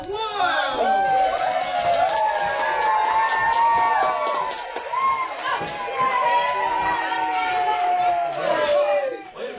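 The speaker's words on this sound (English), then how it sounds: "The crowd goes wild!" Crowd roaring and cheering continuously after a last-second winning touchdown, dense shouting voices layered over one another at steady volume.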